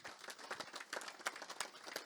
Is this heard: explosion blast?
no